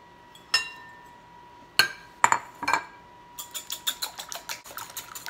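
A fork clinks against a glass bowl while three eggs are beaten, a few sharp separate taps followed by a quick rhythmic run of light clinks, close and clear.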